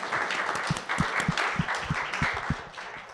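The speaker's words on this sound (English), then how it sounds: "Please join me in giving her a round of applause." Audience at a lecture on artificial intelligence applauding a speaker, moderately loud clapping from a modest crowd with distinct individual claps standing out, sustained for a few seconds.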